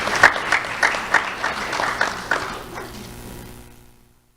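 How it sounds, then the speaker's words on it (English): A brief round of clapping from an audience at a sheriff's office youth award ceremony, with a few distinct claps over a moderate crowd that fades away within four seconds. "Let's have a round of applause for Leanne Prada."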